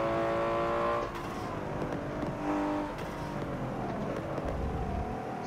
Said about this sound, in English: You can hear the gravel getting kicked off the car.